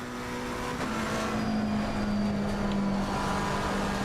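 McLaren 720S GT3 racing engine in Assetto Corsa Competizione at Suzuka, a steady loud drone with a sustained tonal hum that holds level throughout, without talk.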